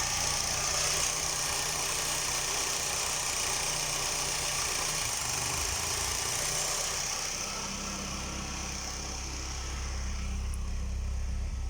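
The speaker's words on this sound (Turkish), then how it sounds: "Şu an araba benzinle çalışıyor." A car engine running on petrol idles steadily and continuously, a low mechanical hum with a faint rattle, close by and with no voices.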